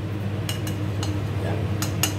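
Cutlery clinks against a plate as fried garlic anchovies are served, with a few sharp light clinks spaced apart over a low steady background hum.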